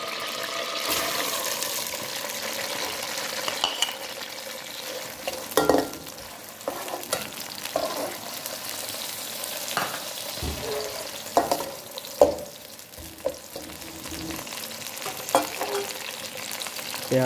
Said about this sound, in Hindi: प्याज को अच्छी तरह से ब्राउन कर लेंगे।